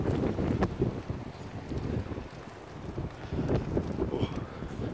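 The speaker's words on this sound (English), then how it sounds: "You can probably hear the wind." Wind blowing outdoors on a snowy day, gusting and buffeting the microphone with a low, uneven rumble throughout.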